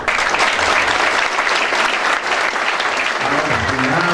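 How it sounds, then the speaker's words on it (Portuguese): Loud, dense applause from a seated audience at an awards ceremony in Ouro Preto, a continuous roar of many hands clapping together, close and sustained throughout. "uma salva de palmas para as mulheres"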